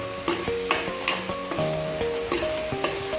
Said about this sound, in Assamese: এতিয়া লৰাই দিছোঁ অকণমান, লৰাই দি